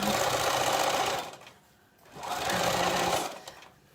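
A sewing machine runs fast on skirt fabric in two sustained buzzing stitching runs separated by a brief pause, close and steady with a mechanical rattle.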